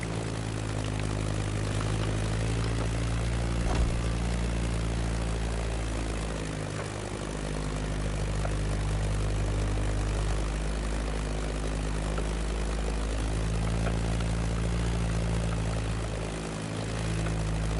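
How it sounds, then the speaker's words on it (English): Steady droning propeller engine of a Beechcraft Staggerwing flying in a flight simulator game, a constant low hum with shifting engine tones and slight swells in pitch. "Beechcraft Stagger Wing is truly a beautiful piece, isn't it?"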